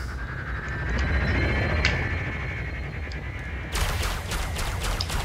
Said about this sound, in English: I just fired my lasers.